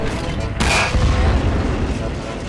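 A tank is destroyed in a toy war battle, a sudden loud boom bursting in and rumbling on with a low, lingering roar.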